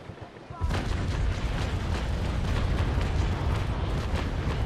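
Cannon broadside from a sailing warship, a Trincomalee-class frigate, in the Naval Action naval battle game: a sudden loud blast opens into sustained rumbling, crackling gunfire that rolls on densely throughout.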